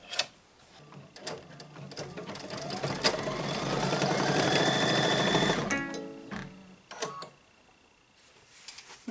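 An embroidery machine stitches a tack-down on a Kimberbell mug rug, a steady rapid mechanical whirring that builds and holds for several seconds, then stops amid a few clicks and small handling knocks, close and moderately quiet.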